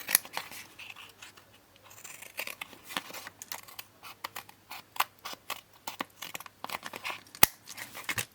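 Scissors snip through paper scraps in a rapid series of crisp, close cuts mixed with light rustling, quiet and irregular, with no talking.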